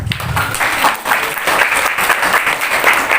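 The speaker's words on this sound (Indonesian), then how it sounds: "Tepuk tangan dulu." A live audience at a Ramadan talk about fasting claps loudly and steadily in a sustained round of applause.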